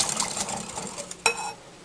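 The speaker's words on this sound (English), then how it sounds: "I might get the whisk out for this" A whisk rattles quickly against a bowl while mixing sugary KFC-style coleslaw dressing, a light continuous metallic clatter with one sharper clink near the end before it stops, close by and without talking.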